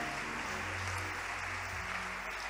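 Crowd at a church conference cheering and applauding, a dense, continuous roar of clapping and voices filling the room at steady loudness.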